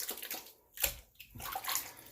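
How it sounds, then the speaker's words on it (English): Running water rinses soap-slick hands at a sink during a shaving routine, splashing and sloshing in short bursts with a brief pause before the flow resumes. "Now your hands are going to be uber slick, super, super slick. So give them a good rinse off."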